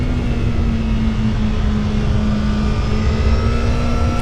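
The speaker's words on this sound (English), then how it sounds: "You can feel the split throttle bodies opening up, right? Because you can hear it." A loud 2025 Honda CBR1000RR-R Fireblade SP on a race track at steady high revs, split throttle bodies opening, a continuous droning roar with a strong engine tone and rushing wind noise.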